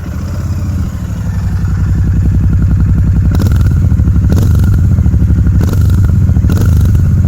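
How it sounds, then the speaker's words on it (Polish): A Royal Enfield Super Meteor 650 motorcycle engine starts and settles into a loud, steady, close-up idle with a deep rhythmic thump, punctuated by a few brief rev blips. "Trzeba też zaprezentować, jak ten sprzęt gada. Uwaga, odpala się go w ten sposób."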